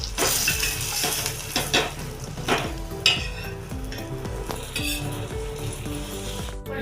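Bangda mackerel sizzles in hot oil in a pan, with a constant crackling fry broken by metal utensil clinks and scrapes against the cookware.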